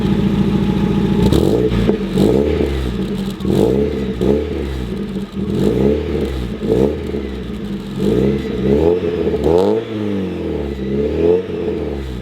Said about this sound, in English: I'll give you some revs real quick as well.